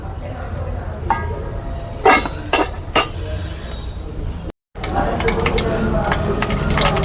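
Seeds crackle and pop in hot oil, with sharp scattered snaps over a steady sizzle and a brief clatter of a utensil.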